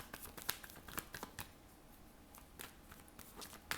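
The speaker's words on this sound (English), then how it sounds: "So I already shuffled before we started, but I felt the need to do a little more." Soft, quiet riffling and tapping of tarot cards being shuffled by hand, in short irregular bursts with brief pauses between.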